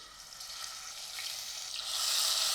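Spice paste and asafoetida hitting hot wood-pressed oil in a brass pot, a faint crackling sizzle that builds steadily louder toward the end, heard alone.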